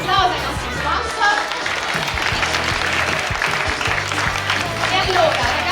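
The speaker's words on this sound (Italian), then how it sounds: "Un applauso ai nostri sponsor" Applause from the audience at a Miss Città Murata beauty pageant selection at Arya's in Castelfranco Veneto, a dense clatter of clapping that runs steadily for several seconds beneath rhythmic thumping background music.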